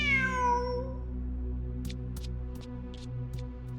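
A cat meows in the video game Genshin Impact, one clear descending meow near the start that fades within a second, then soft ambient tones with faint chimes, no voices.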